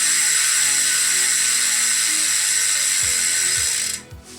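The freehub on a CSC 58mm deep section bicycle wheel for a custom Elves Falath Evo+ build spins with a loud, continuous high buzzing ratchet whir that runs for about four seconds, then cuts off as the wheel stops.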